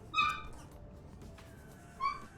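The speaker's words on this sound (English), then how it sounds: "You can hear the dumb dog screeching." A dog whimpers and screeches indoors in two short high-pitched bursts near the start and end, moderately faint, with quiet room noise between.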